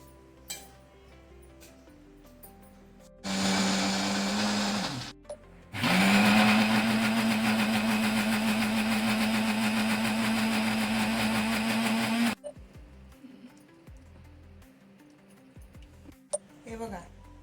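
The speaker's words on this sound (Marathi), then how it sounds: "आता मी मिक्सरमध्ये वाटून घेते याला." A mixer grinder grinds soaked rice with urad dal, moong dal and fenugreek seeds, whirring loudly in a short burst and then a longer continuous run before stopping, with quiet clinks around it.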